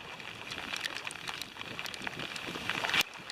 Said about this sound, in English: the wind and rain's picked up again